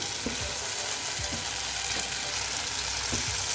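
Cooked tomatoes being mashed in a pan for aloo tamatar salan: four or five slow, scraping strokes spaced about a second apart over a steady low sizzle, close and alone with no voices.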